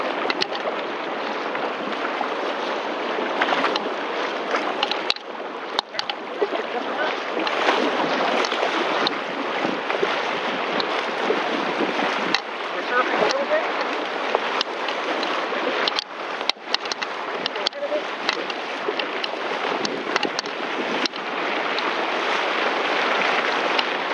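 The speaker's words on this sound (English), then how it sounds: "Paddle in the water to keep balance." A surfski paddled out through surf, a steady rush of water and waves against the hull with wind buffeting the microphone and occasional paddle splashes, continuous and fairly close.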